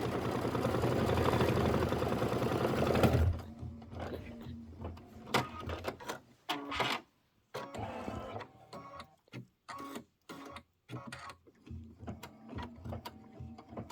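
Embroidery machine stitching a satin outline for a jar design on linen, heard as a rapid rhythmic mechanical whir that starts loud and steady, then breaks into choppy bursts separated by brief pauses.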